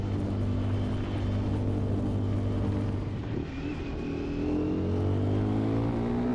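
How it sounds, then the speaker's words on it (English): A 2025 Triumph Scrambler 400 XC single-cylinder motorcycle engine on the move, a steady droning hum with a brief dip as the throttle eases, then rising pitch as it pulls again, with wind rush throughout. "I love the engine in this thing."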